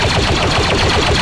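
Heavy guns firing in The Mandalorian VR mod for Blade and Sorcery, a loud, dense stream of rapid shots with no break.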